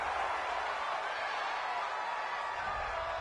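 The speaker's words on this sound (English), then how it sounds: "This home crowd, they're happy with that call." A home crowd at an American football game reacts to a referee's call with a loud, steady roar of cheering that fills the stadium throughout.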